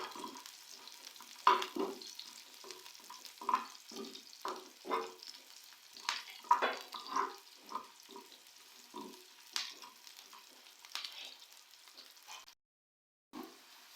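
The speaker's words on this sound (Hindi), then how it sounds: "ये देखिए हमने इसे गोल्डन कलर आने तक फ्राई किया है।" Chana dal tempering with green chillies fries on medium heat, soft sizzling crackles and stirring scrapes in an irregular rhythm, fairly faint and close, ending in a brief silence.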